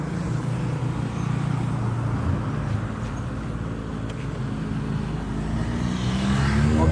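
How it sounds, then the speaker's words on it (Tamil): Vehicles pass along a road opposite a house and shop, a steady, moderately loud rumble of traffic that swells slightly toward the end, with no talk. "ஐயோ, வண்டி வந்துக்கிட்டே இருக்கு."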